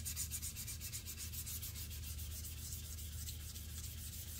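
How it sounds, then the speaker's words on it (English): Steady abrasive sanding of guitar-build wood soaked with Danish oil, a continuous close rhythmic scratching with rapid back-and-forth strokes, heard alone without talk. "I can start to feel it getting a little bit easier to sand though."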